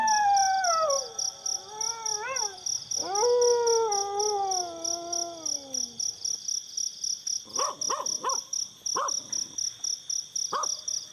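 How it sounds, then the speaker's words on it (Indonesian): Wild dogs at night let out long, drawn-out howls that slide downward, followed by shorter yelping cries, all over a steady, shrill chorus of crickets; no one speaks. "Anjing-anjing liar melolong panjang dan menyayat."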